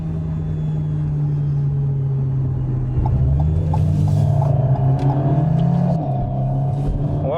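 A 2022 Alpine A110 sports car drives along country roads, its engine giving a steady low droning hum heard from inside the cabin, rising slightly in pitch midway as it accelerates, with no talking.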